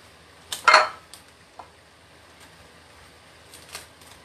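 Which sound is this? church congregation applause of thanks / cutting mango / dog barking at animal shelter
cutting mango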